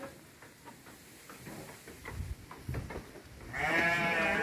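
Large sheep in a pen built of old pine wood, with faint scattered rustles and knocks, then a nearby bleat at the end.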